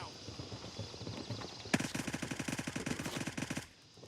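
Sustained automatic fire from a machine gun emptying its magazine in the shooter Gray Zone Warfare, a rapid even burst of about two seconds that starts abruptly, sounds loud and close, and follows quieter chatter and movement.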